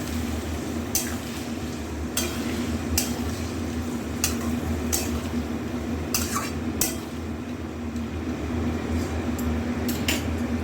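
Marinated chicken with cracked black pepper is stirred in a pot, with a soft, steady sizzle under repeated light scraping and clinking of a utensil against the metal, close and fairly quiet.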